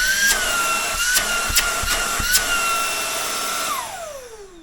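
A ROIDMI X200 cordless vacuum runs at max suction with a steady high-pitched whine, punctuated by several short knocks, then the motor spins down and its pitch falls at the end. No one speaks.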